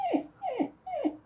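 A dog whimpers three times in a row, each a short falling whine evenly spaced and fairly close, with no talking.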